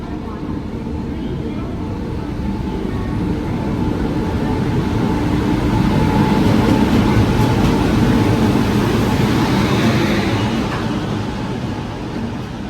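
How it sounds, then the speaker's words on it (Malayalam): The Visakhapatnam–Kollam Express train rolls past, a broad rumbling roar that builds, peaks midway and then eases off, heard from close by. "അപ്പോൾ ഇതേ വിശാഖപട്ടണം കൊല്ലം എക്സ്പ്രസ് ഇതേ വരികയാണ് കേട്ടോ"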